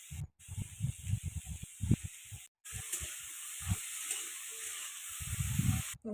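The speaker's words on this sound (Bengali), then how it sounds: "আলুটা এর মধ্যে দিয়ে দেবো দিয়ে আলুটাও ভেজে নেবো ভালো করে" Bitter gourd and potatoes frying in a pan give a soft, steady sizzle under bursts of faint clatter and stirring, with a couple of short breaks in the sound.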